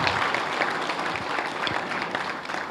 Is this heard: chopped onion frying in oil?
no